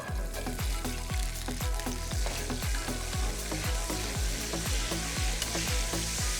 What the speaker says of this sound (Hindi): उसके बाद ऑयल, ये ऑयल में गया जीरा, जीरा चटचटाते